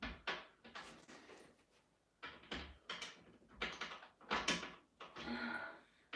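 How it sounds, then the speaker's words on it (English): The back door of a Stern prototype arcade machine is worked at. Quiet knocks, scrapes and rattling bursts come in irregular clusters, close to the microphone, with no talking. "So I'm going to try and take this back door off again."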